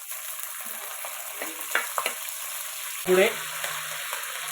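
Mustard and fennel seeds splutter in hot oil with scattered pops and crackles, then a louder burst of sizzling partway through, while a voice briefly speaks.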